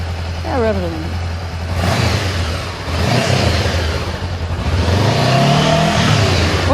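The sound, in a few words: Honda CBR500R motorcycle engine revving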